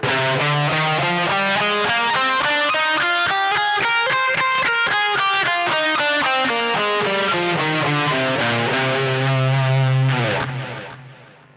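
Distorted electric guitar plays a steady run of single notes up and down a diatonic minor scale, each note picked evenly, loud and close with no talking.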